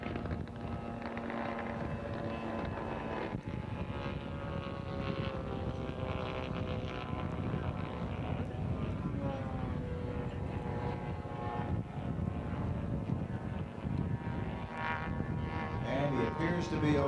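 An unlimited-class racing plane with a sputtering engine at the 1995 Madera air races drones steadily through a wavering, uneven engine note as it comes in for a belly landing, heard at a distance under heavy wind noise.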